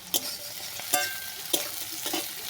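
Crushed garlic frying in hot oil in a pan, prepared for a jhinge and tilapia fish curry, with a steady sizzle broken by a few sharp stirring scrapes, close and moderately loud, no talk.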